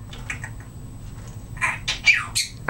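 Several loud, harsh squawks from a pet bird, close by, coming in a quick burst of three or four calls over a low background hum.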